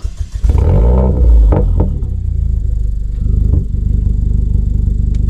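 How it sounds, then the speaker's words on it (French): A Renault Clio 4 RS with an aftermarket GT Perf exhaust cranks and fires up, a loud throaty burst that settles into a close, steady low idle rumble. "Bisous, je vais démarrer la voiture."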